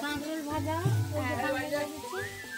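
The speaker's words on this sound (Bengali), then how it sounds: "পাশে বৌদি আলু ভাজছে গ্যাসে" Sizzling from potatoes frying in a pan on a gas stove runs beneath nearby people talking.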